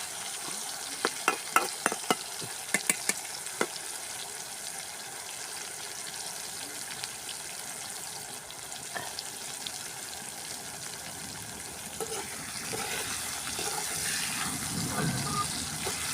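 Garlic frying in hot oil for a village-style gravy, a steady soft sizzle throughout with a few sharp stirring scrapes early on and a swell of bubbling near the end, no talk.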